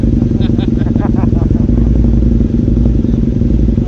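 A motorcycle engine starting and running with the clutch held, loud and close, a steady rumbling idle with some clatter, while people talk over it.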